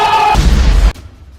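A large explosion blowing up the Helm's Deep wall in a battle scene, a single heavy deep boom lasting under a second that cuts off abruptly, with a faint tonal background before it.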